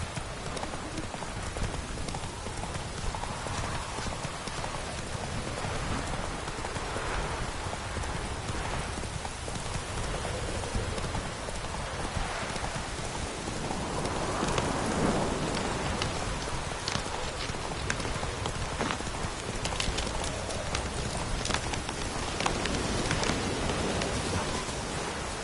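The horse Roach gallops in The Witcher 3 video game, with steady clip-clop hoofbeats running the whole time under a constant wash of rain pattering on the ground.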